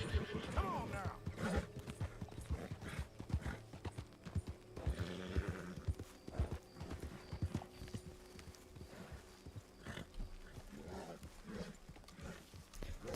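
Horse neighing and hoof clip-clops from Red Dead Redemption 2, a whinny early on and scattered hoofbeats over game ambience and background music, with faint talk mixed in.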